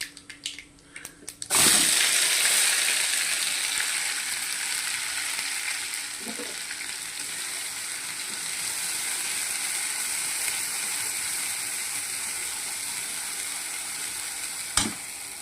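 Mashed dried fish hits hot mustard oil tempered with nigella seeds, bursting into a loud sizzle that then settles into a steady frying hiss, with a sharp clink near the end.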